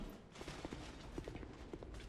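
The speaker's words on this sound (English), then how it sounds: "Horse ahead." Horse hooves clip-clopping in the dark fantasy game Dark Souls II, a slow, uneven run of soft, fairly faint thuds over a dull rumbling background, with no talk.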